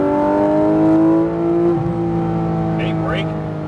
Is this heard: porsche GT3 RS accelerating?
yes